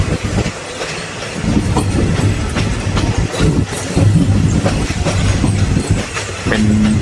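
Thai rapid train 167 runs on the short line between Thung Song junction and Kantang. Wheels clatter in a loud, continuous clickety-clack over rail joints alongside the rumble of the moving carriage.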